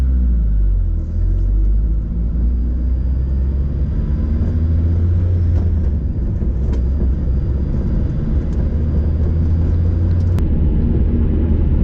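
A turbocharged Mazda Miata idles while warming up, giving a steady, loud low rumble that stays unbroken the whole time, with a few faint clicks over it.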